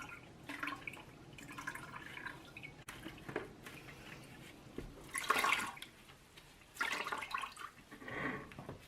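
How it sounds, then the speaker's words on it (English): Paper pulp being pressed through a sieve over a bucket with a sponge while making paper clay, giving wet squelches, drips and bursts of draining water, close and fairly quiet, with no talking. "into my sieve here with the bucket underneath, of course, and I help it along with the sponge."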